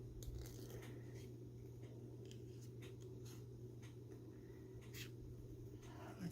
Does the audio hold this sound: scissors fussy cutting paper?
yes